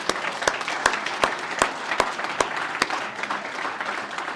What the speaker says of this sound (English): one more round of applause for our officials